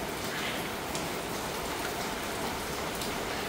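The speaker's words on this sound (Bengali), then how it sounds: "বৃষ্টি হচ্ছে, চলো তো দেখি।" Steady, dense rain falls outside a home where laundry hangs unable to dry, a constant close hiss of drops on surfaces throughout with no voices.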